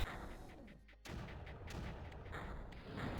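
Mortars fire in the strategy video game Creeper World, a dense run of overlapping booms and thuds that briefly dips before the barrage resumes loudly.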